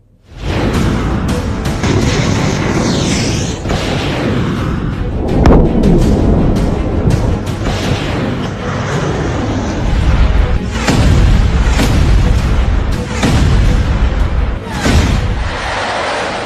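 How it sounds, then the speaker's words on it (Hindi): Missiles and cluster bombs striking Tel Aviv in news footage, heavy rolling booms and thuds layered into a loud, continuous rumble of blasts with repeated sharp bursts. "तेल अवीव पर खुर्रम शहर मिसाइलें गिर रही हैं। एक एक क्लस्टर बम को गौर से देखिए।"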